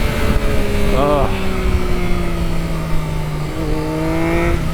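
A 2003 Triumph Daytona motorcycle engine runs steadily and fairly close, with a couple of brief rev changes rising in pitch, under a constant low mechanical drone and some background noise.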